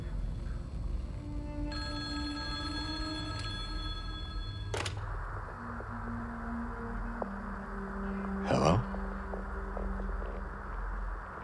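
A telephone rings repeatedly in steady electronic bursts in the video game Silent Hill 2 Remake, moderately loud over a low, droning ambient background with a sharp click and a brief noisy burst partway through.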